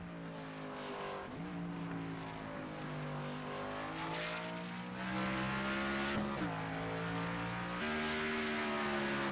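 The number 10 race car runs a qualifying lap at Martinsville, a steady loud engine drone that winds up through the gears, dips and shifts as it brakes, then climbs again, with no talk.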